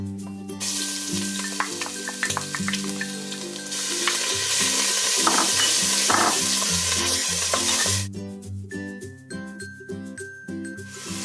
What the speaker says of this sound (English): The oil is ready now. I'm going to put garlic and ginger first.